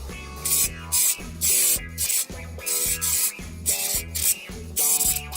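Fast-drying paint is spray-painted onto a Jeep as another coat, rhythmic hissing bursts of the spray gun that repeat in quick pulses over a mechanical pumping hum, with no speech.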